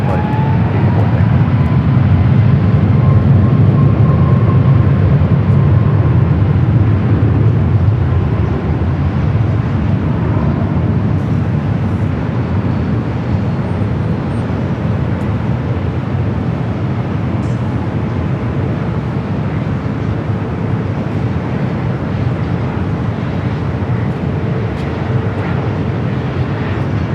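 An airliner takes off at Los Angeles LAX airport, its jet engines producing a loud, steady broadband roar that holds for nearly half a minute without easing.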